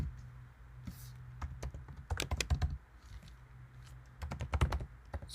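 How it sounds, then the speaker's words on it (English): Typing on a computer keyboard while writing Go string code, with bursts of quick close key clicks separated by short pauses and a low steady hum underneath. "Let's type in something."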